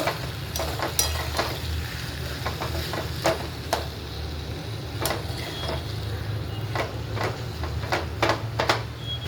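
Potatoes stirred with homemade masala in a pan, repeated scraping and clacking strokes of a spoon at an irregular rhythm over a low steady hum.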